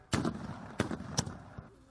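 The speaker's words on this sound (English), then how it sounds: "They're even setting off fireworks" Fireworks go off at a protest camp of Native Americans opposing a pipeline: three or four sharp, distant bangs at irregular intervals, each followed by a short echoing rumble.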